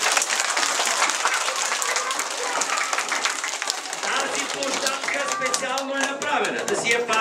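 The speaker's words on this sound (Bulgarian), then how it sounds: "Ръкопляскайте!" Outdoor crowd at the opening of a children's traffic-rules playground bursting into dense, sustained applause, with voices and shouts of children and adults mixed in, lively and close throughout.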